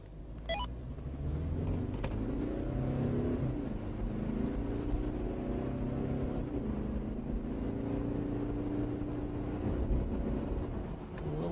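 Two Toyota Prado SUVs, a facelifted model and an older pre-facelift one with 177 and 210 hp engines, accelerate hard side by side in a drag race. A steady loud engine roar builds with rising pitch, mixed with wind and road rumble and no talking.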